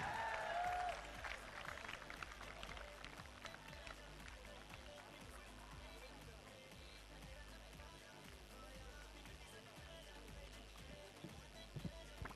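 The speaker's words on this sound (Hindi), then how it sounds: "तालियां बजा दो, शादी हो गई।" Fairly quiet, steady applause comes from the audience at a motivational seminar. The rapid clapping runs throughout, a little stronger at the start, and then settles into a soft, continuous patter.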